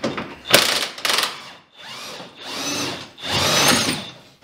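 A power tool, an impact wrench, works on a rear suspension bolt of a Gen 4 Ski-Doo 850 snowmobile in a series of short bursts, two sharp quick ones followed by longer whirring runs, close and loud with no talk.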